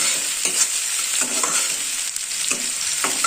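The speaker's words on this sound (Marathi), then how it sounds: "हा पण कांदा असा पूर्ण असा भाजायचा नाही लालसर होतोवर अर्ध भाजायचा" Sliced onion sizzles steadily in a hot pan for a spicy village-style mutton curry, a continuous close hiss broken by occasional stirring scrapes, no talk.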